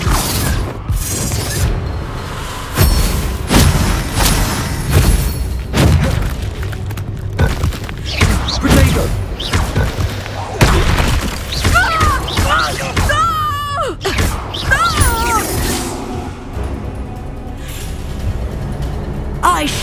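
Confringo and Bombarda explosive spells go off repeatedly in the Hogwarts Legacy video game: a long run of booms, thuds and shattering crashes in an irregular rhythm, with voices speaking between and over the blasts.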